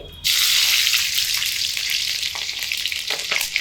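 Slit green chillies dropped into hot oil already tempered with bay leaves, for an eggplant malai curry: a sudden loud burst of frying that settles into a steady, close hiss, with faint stirring taps toward the end.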